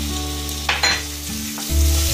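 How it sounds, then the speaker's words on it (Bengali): Prawns frying in oil in a pan, a steady close sizzle with brief stirring scrapes and a surge of sizzling near the end, no voices. "বেশি ভাজলে চিংড়ি মাছ শক্ত হয়ে যায়, একটু নাড়াচাড়া করে আমি নামিয়ে নিচ্ছি।"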